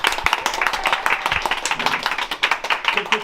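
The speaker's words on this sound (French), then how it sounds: "j'aimerais un tonnerre d'applaudissements pour Kylian Dosting, s'il vous plaît." A small group on a film set for a police-station episode making-of claps loudly and close by, brisk rapid hand claps in an uneven rhythm with some talk mixed in.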